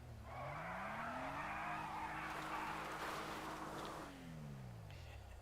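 Tires squeal loudly as a car in GTA 5 brakes and turns hard, a single sustained skid with the engine note sweeping up and then falling away, alone without voices.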